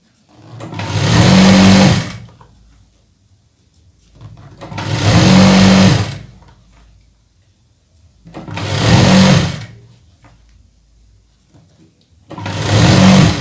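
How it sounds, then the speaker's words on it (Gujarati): A sewing machine stitches piping onto a blouse in four loud, close bursts of steady whirring, each about two seconds long, separated by short quiet gaps. "આ રીતે સિલાઈ મારી દેવાની પટ્ટીને થોડી ખેંચી અને સિલાઈ મારી દેવાની"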